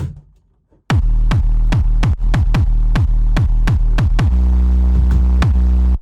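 Heavy, saturated kick drums thump in a steady pattern over a deep, distorted 808 bass that sustains and slides between hits, loud and gritty, the kick and 808 blended by the Erosion saturation plugin.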